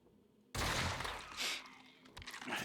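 A muzzle loader firing in the game Empyrion: a sudden loud burst that rings out and decays, with a second fainter swell and a few sharper cracks trailing after, no talk.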